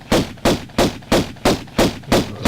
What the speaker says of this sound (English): Just pull your pistols out and pick them off as you want.